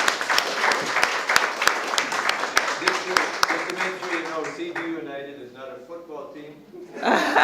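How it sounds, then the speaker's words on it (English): Audience at a panel discussion gives a round of applause, sharp distinct claps thinning out midway into chuckles and laughter, with voices picking up again at the end. "Can we please give them a round of applause?"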